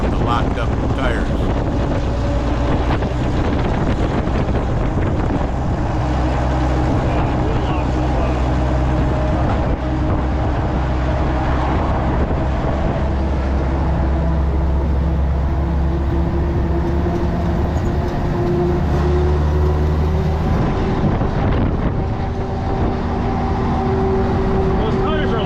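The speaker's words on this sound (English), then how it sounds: "Those tires are loud. It's all tire noise now. Knobbies." Knobby bias-ply tires on an M38A1 military jeep roar continuously on the road, a loud, steady, broadband drone mixed with wind buffeting for the whole stretch.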